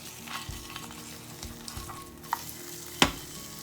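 An egg frying in a pan after a gentle flip, soft steady sizzling with a few faint clicks and taps from a utensil, close and calm with no talking.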